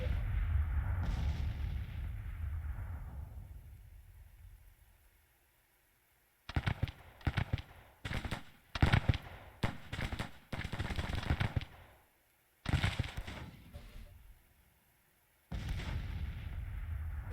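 Civil War artillery fire in the strategy game Grand Tactician, with a long fading rumble followed by bursts of repeated booming cannon shots and crackling volleys, loud and close, separated by brief silences.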